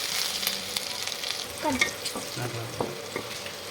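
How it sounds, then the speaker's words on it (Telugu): Chopped garlic and ginger frying in a pan, a continuous crackling sizzle with scraping and clinks as a spoon stirs them around. "చాప్డ్ గార్లిక్ చాప్డ్ జింజర్ వేసి బాగా కలుపుకోవాలి"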